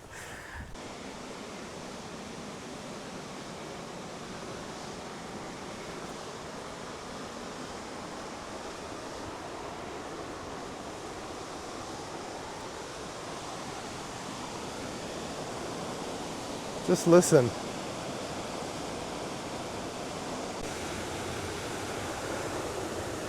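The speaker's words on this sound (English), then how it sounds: "here we are at the bridge crossing the Yuba River right at Love Falls" Steady broadband roar of a waterfall and the rushing Yuba River at Love Falls, Sierra City, California, continuous throughout, with a short spoken phrase near the end.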